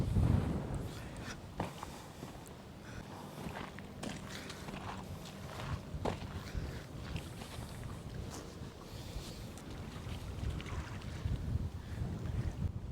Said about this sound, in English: Beautiful, beautiful windy day out here.